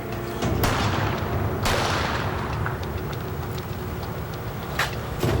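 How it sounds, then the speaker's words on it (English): Gunshot in a TV crime re-enactment of a woman shot in a car, heard as sharp, loud cracks amid dense dramatic noise and rumble, with further distinct impacts near the start and end and no talk. "Once she's already in the car, she's shot."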